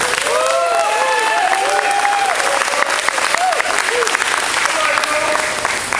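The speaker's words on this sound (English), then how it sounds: "And again, give everyone an applause again." Applause at the Thumb 2024 commencement ceremony, loud and dense clapping from a large crowd with scattered whoops and cheers rising over the steady clatter.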